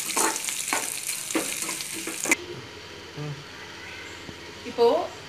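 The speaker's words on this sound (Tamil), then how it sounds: "இப்போ நம்ம இதில் கொட்டிடலாம். கொட்டி கலரிடலாம்" Fried cashews are tipped into barnyard millet pongal and stirred, a sizzling, scraping mix for about two seconds that drops to a quieter background with light clinks and handling, close up.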